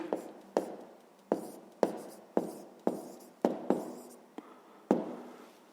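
Pen or chalk writing out a fifth-grade maths solution, a run of about ten sharp taps and strokes in an uneven rhythm, close and alone.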